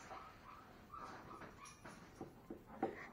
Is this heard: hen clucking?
no